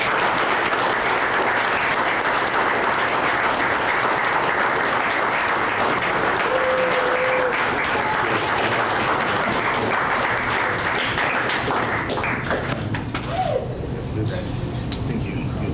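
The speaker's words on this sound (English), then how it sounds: "let's give him a round of applause." Sustained audience applause at a police chief's citizen award ceremony honoring a man with an award for valor, steady and fairly loud throughout, tapering slightly near the end.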